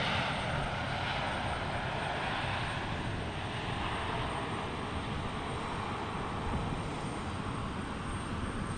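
Allegiant airliner arriving at Portland International Airport, a broad steady engine roar that fills the whole stretch with no breaks, heard from a distance.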